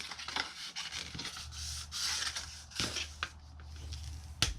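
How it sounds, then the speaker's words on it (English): Scored paper being folded and burnished by hand for a gift box, giving a close, dry rubbing and scraping sound in short strokes with a sharp crease at the end. "And then we need to fold and burnish those scores."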